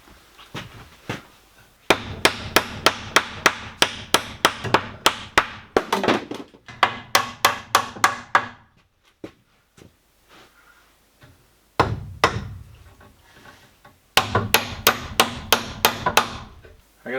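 Nails are hammered into 2x4 wood framing on an off-grid homestead build: bursts of rapid, sharp, ringing blows in quick runs, separated by pauses and a few isolated strikes, loud and close.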